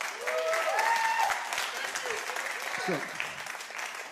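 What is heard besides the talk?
audience applause at comedy show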